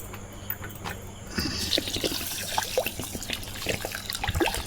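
Water pours and trickles over a cup of lentils in a bowl as they are set to soak for dal chochori, a faint stream that grows a little fuller midway, close and alone.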